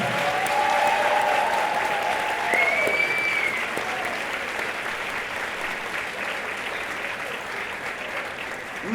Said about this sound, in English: Let's give all of these phenomenal women a thunderous applause.